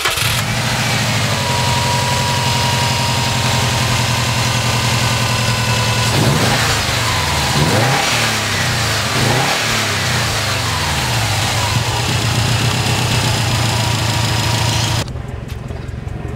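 Subaru WRX STI with its intake silencer removed, engine idling loudly up close, then revving in three quick blips before settling and cutting off near the end.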